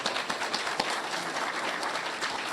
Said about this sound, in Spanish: Demos un aplauso para todos nuestros ponentes